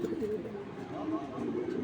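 Racing pigeons at a farm coo in a low, continuous murmur close by, several birds overlapping, with someone talking over them.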